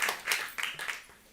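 An audience at a health and nutrition talk claps in a short, scattered burst of applause that quickly fades away, light and fairly distant with no one speaking over it.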